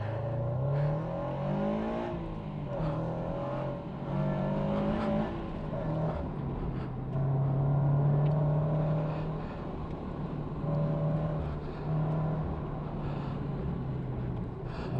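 A car engine revs up and down continuously on a race track, rising through gears and easing off, with steady road and wind roar throughout; no voices.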